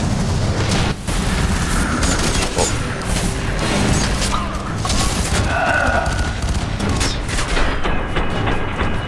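Heavy combat din in the shooter F.E.A.R. 3, with a grenade blast amid continuous loud gunfire and booms filling the whole stretch, voices faintly mixed underneath.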